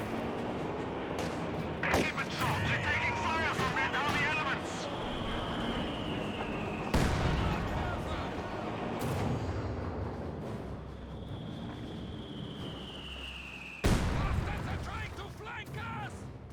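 M42 anti-tank gun firing in Company of Heroes 2, sharp booming shots at spaced intervals amid rumbling battle noise, with a voice talking over the action.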